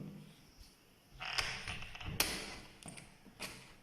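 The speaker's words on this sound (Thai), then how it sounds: "เสร็จแล้วเราลองปิดประตูดูครับ" A bathroom door swings shut with a soft creak and a few light knocks and taps from the latch and lock mechanism, fairly quiet and close.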